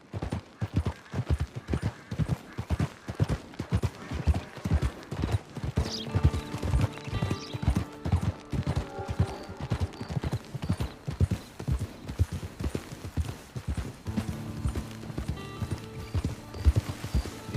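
Horse hooves clip-clopping steadily in the video game Red Dead Online, a close, regular walking rhythm with an occasional whinny, while a voice speaks briefly over it.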